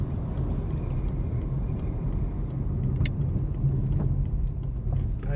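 A car pulls over and parks on a roadside, its engine a low steady rumble close by, with a few faint clicks and ticks over it and no voices.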